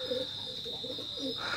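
Imported-bloodline teddy pigeons coo softly in a series of low, rounded notes, faint and close, over a steady high hiss and background hum.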